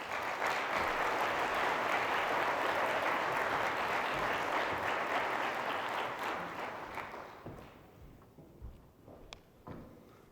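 Steady, dense audience applause greeting FHFA Director Mark Calabria onto a stage at a formal policy event, holding strong for several seconds before thinning into scattered claps and footsteps.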